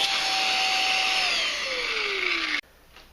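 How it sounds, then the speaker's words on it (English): A Baseus A2 Pro portable USB-C rechargeable car vacuum runs with a close, steady whine whose pitch sags slightly before it shuts off abruptly near the end. "so this has some suction"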